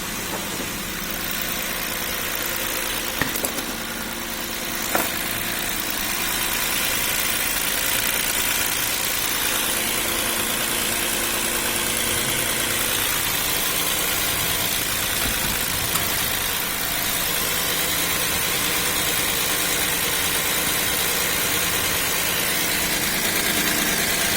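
A Hyundai Lambda 3.3 V6 engine idles steadily after a start following an oil control valve replacement, a constant close hum with a couple of faint clicks early on and no talking.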